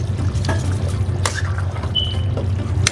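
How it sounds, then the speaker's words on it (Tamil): About 100 ml of water is poured into a chicken curry made with coconut milk as it cooks over medium heat, a soft continuous trickle and splash over a low background hum. "இதுக்கு ஒரு 100 மில்லி லிட்டர் அளவுக்கு தண்ணி சேர்க்கிறேன்"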